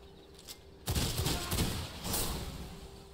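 Gunfire in the vampire action game V Rising: a sudden volley of loud cracking shots and impacts after a quiet start, a dense burst followed by a second surge, fairly close.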